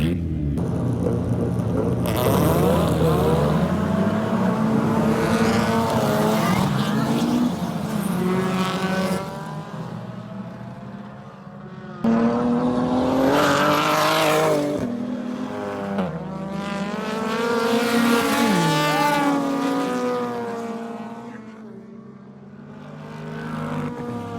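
Race cars roar around a racetrack, engines rising and falling as they sweep past in long, loud waves of revving and rumble, with several overlapping passes and no talking.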